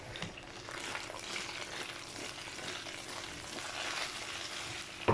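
Potato slices frying in a pan make a continuous, even sizzle that stays moderately soft and close throughout, with no speech over it.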